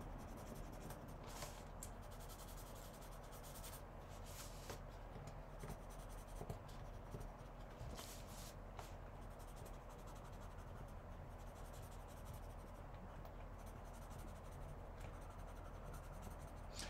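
Soft Prismacolor colored pencil shading on paper, a faint continuous scratchy rasp of steady back-and-forth strokes close by, with no voices.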